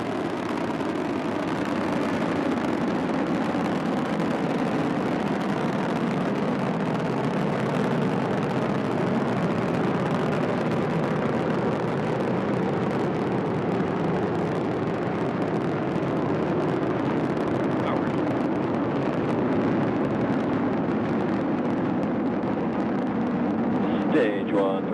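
A rocket engine roars through a launch in Kerbal Space Program, a broad, steady rumble that stays loud and continuous, with radio-style launch commentary talking over it.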